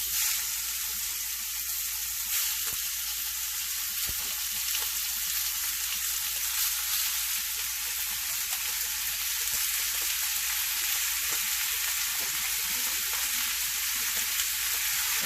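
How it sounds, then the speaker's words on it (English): Al pastor premade skillet meal browning in a hot 10-inch skillet, a continuous close hiss of sizzling with occasional faint clinks and stirring, no talking. "I got my skillet nice and hot. I'm gonna brown all this up."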